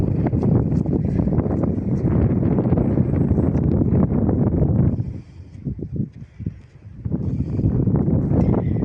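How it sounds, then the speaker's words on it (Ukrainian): Strong wind roars and buffets the microphone continuously on a cold Carpathian mountain ridge, easing briefly before surging back, loud and close with no voices. "тут дуже вітряно, дуже холодно"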